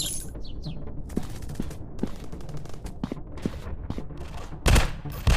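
Gunfire in a PUBG-style counter-terrorist first-person shooter game, a string of sharp single shots at a steady pace with short bursts near the end, close and loud.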